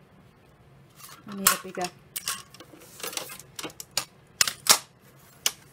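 Junk mail envelope paper being trimmed for a handmade journal, a series of sharp crisp cuts and snips in irregular bursts, close by, with someone speaking briefly.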